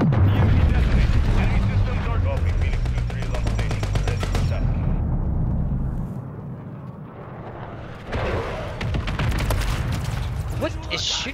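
Heavy rapid gunfire in Call of Duty: Modern Warfare 3, loud and sustained with bursts of automatic fire and a brief lull near the middle, with some game noise mixed in.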